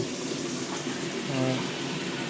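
Steady, strong rushing of water pouring from a tap in a campsite restroom, a constant hiss with no pauses, fairly close.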